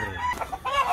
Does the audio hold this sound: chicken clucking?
yes